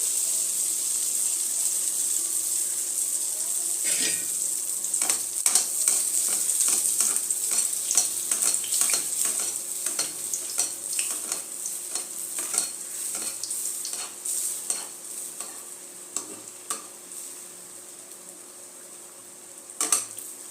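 Dhuska batter frying in hot oil in a pan over low-medium flame, a steady bright hiss with frequent crackling pops and occasional utensil clicks, gradually settling, no speech.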